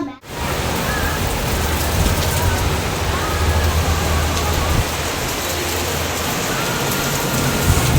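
Heavy rain pours down steadily at home, a dense continuous hiss filling the air throughout after a brief quiet moment at the start.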